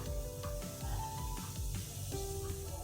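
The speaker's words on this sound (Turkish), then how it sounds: "Gördüğünüz gibi güzelce köpürdü. Bırakın iyice köpürsün." Soft fizzing and crackling of foam bubbling up, a continuous quiet hiss with small pops close by.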